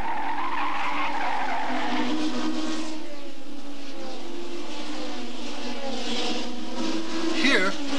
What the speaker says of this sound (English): you'll make it round the corner, demonstrated here by Carlos Rutman in number 2 in the Black Martini Lotus